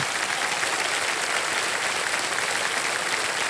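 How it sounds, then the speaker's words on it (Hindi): Studio audience applause on a Kaun Banega Crorepati quiz-show set, welcoming a contestant; dense, even clapping from many hands, loud and unbroken throughout the few seconds, with no voices over it. "एक बार तालियों के साथ उनका स्वागत कर दिया"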